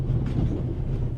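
A train rolls along the rails with a steady low rumble and faint rhythmic clatter, heard from inside at an even level, with no voices.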